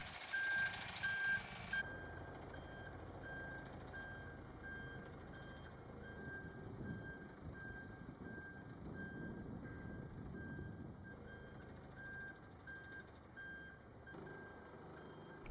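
A Category C truck reversing slowly toward a garage bay, its reversing alarm beeping steadily in even pulses over a low idling engine rumble, heard at moderate distance.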